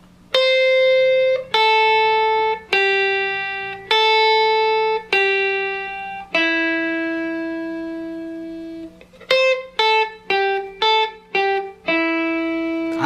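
An electric guitar works slowly through a three-note scale sequence, single picked notes ringing out one by one, then a quicker run of short notes near the end, played close and clear with no voices.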